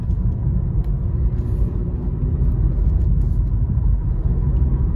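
A 2020 Honda City accelerates on a highway at night, its steady engine and road rumble filling the cabin as a continuous, fairly loud drone that holds without a break.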